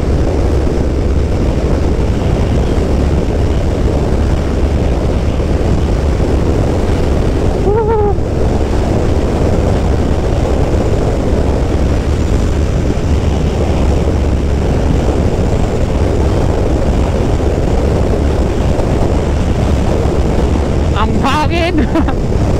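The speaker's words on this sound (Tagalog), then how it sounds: "Hangin." Strong, steady wind roar buffets the rider of a Yamaha NMAX v2 scooter cruising at top speed on a bypass road, loud and unbroken for the whole stretch.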